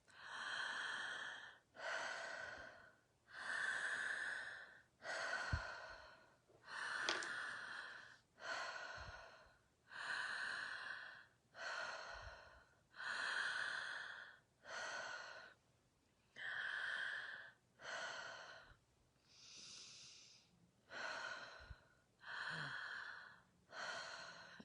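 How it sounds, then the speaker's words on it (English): Slow, deep breathing exercise during a live guided session: about a dozen long inhale-exhale cycles in a steady rhythm, close and clear, with no talking. "let's just breathe for 30 seconds together."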